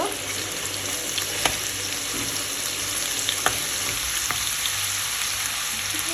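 Ginger garlic paste fries in a pan as the base for chickpeas, giving a constant bright sizzle with a few sharp stirring clicks and taps against the pan, and no speech.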